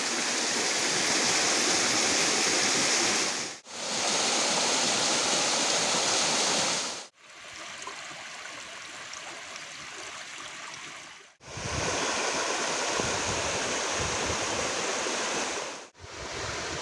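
A steady rush of water spills over the side of a check dam at Modavara Dam, loud and continuous. The roar cuts out briefly several times and comes back, with one quieter stretch in the middle, and no voices.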